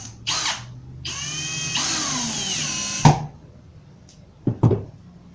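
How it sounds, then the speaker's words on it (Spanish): Power drill driving screws into wooden shelf pieces for a modular Tetris-style shelf, heard as several separate whirring bursts of varying pitch followed by a few sharp knocks of wood, close and alone. "En esta posición te va a ser mucho más fácil colocar los tornillos."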